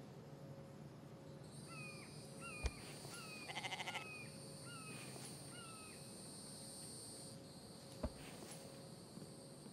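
A goat in the video game The Infected bleats in several short, faint calls repeated at a steady rhythm, over a quiet outdoor ambience with a couple of sharp clicks.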